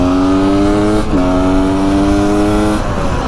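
A Beta RR300 two-stroke motorcycle engine revs hard and close, its pitch climbing, dipping briefly, then rising again in strong, loud bursts with no talking.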